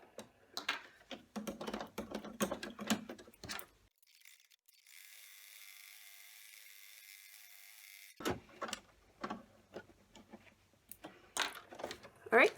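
An embroidery machine stitches the batting tack-down for an in-the-hoop heart coaster in a 4x4 hoop, a steady mechanical whir of several seconds set between bursts of close clicking and handling noise.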